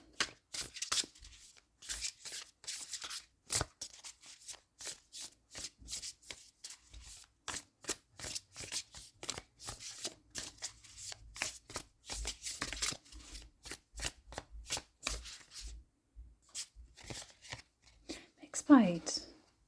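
Crystal-themed oracle cards are shuffled in a long run of rapid, crisp riffling bursts and soft slaps, close up, with a brief voice near the end.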